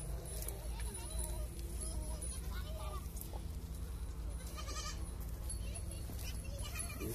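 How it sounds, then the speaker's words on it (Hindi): Goats bleat at a shelter under construction from Sesbania grandiflora wood, several calls rising through the steady low hum and background noise of the outdoor site. "बकरियां भी आ रही हैं, ये हम बच्चों वाली बकरियों के लिए बना रहे हैं।"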